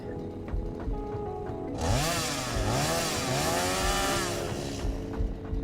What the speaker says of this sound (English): Swap the coffee cup for the chainsaw.